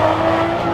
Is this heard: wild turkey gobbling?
no